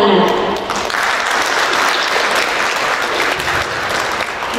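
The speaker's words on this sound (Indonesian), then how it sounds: "Tepuk tangan." Sustained audience applause fills a university guest lecture hall at UIN Maulana Malik Ibrahim Malang, a dense steady clatter of many hands clapping throughout with no talk over it.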